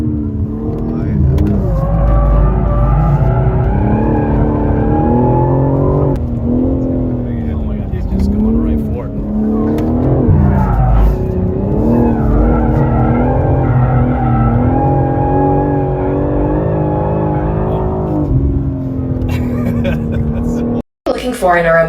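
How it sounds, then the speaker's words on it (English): A 2022 BMW M4 Competition with over 500 horsepower drives hard, its engine droning loudly and steadily with rising and falling pitch throughout and hints of tire noise, alone without talk before a sudden brief cutout near the end. "This is the new BMW M4 competition, over 500 horsepower in a BMW M4."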